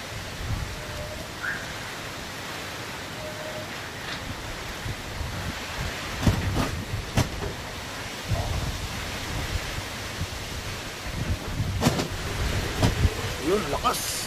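Steady roaring typhoon wind with broadband rush in Las Piñas City, Philippines, swelling in stronger gusts now and then, faint voices underneath.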